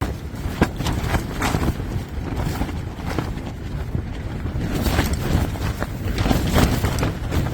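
Strong wind gusts batter a tent at a campsite in a rainstorm in the cold early morning, a continuous loud rushing roar that swells and eases with each gust and has no voices over it.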